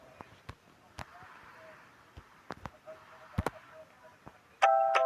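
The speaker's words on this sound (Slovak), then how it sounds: "tak zvoním" A bright electronic doorbell chime rings briefly and loudly at the end in the Toca Boca World game. Scattered soft taps and clicks from the game come before it.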